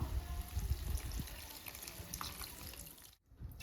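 Water is poured into a pot of sambar, a steady close pouring and trickling that runs for a few seconds, then stops abruptly before a faint bit of sound resumes; no one talks.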